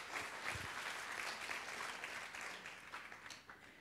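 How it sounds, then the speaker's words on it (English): A church congregation clapping their hands together, a dense burst of applause that holds steady for several seconds before thinning out near the end. "take these two things on the end of your arms and put them together and clap"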